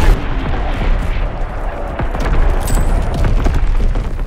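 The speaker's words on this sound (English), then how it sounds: "Incoming enemy artillery. Get to cover." Enemy artillery strike in Call of Duty: WWII, a steady loud barrage of rumbling booms and crackling blasts filling the whole stretch with dense continuous battle noise.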